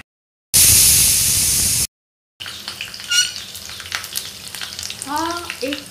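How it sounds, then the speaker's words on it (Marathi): Onion fries in hot oil for a prawn pulao side, a loud burst of sizzling followed by a gap, then softer crackling and stirring scrapes up close. "हा एक कांदा तेलात फ्राय करून घेतलेला आहे"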